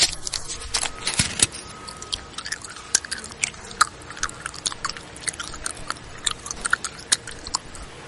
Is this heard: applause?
no